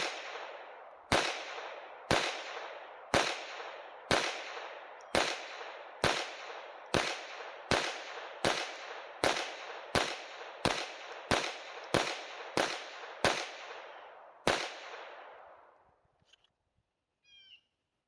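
Sig P322 .22 pistol fired at an outdoor range, about fourteen sharp, loud cracks in a steady rhythm roughly every 0.8 seconds, each with a brief decaying tail, then silence after the string ends.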